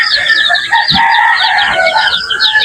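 Chickens clucking and a rooster crowing in a farmyard where geese are being mixed in with the flock, dense overlapping bird calls that are loud and continuous, with a brief low thump partway through.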